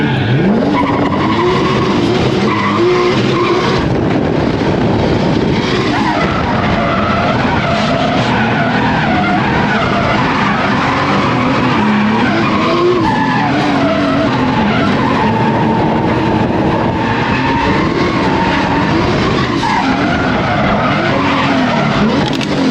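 An 800HP Lexus GS300 with a 2JZ engine and a large Garrett turbo drifts with loud, continuous tire squeal and skidding over a roaring engine. The squeal wavers in pitch throughout.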